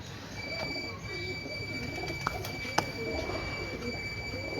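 Breeder pigeons on a Lahore rooftop coo softly over steady background noise, with a couple of sharp clicks and a voice talking nearby.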